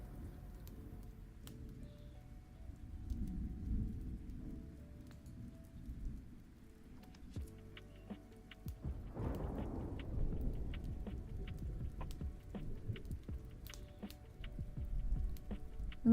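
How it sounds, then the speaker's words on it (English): Steady rain with rumbling thunder plays as an added sound effect on a livestream, low and soft throughout, with a stronger thunder roll swelling midway. "maybe we should add a little bit of rain sound to accommodate the thunders."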